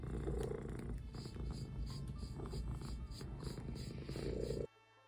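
Steady low rumbling purr from a cat, close and continuous, then stopping abruptly near the end.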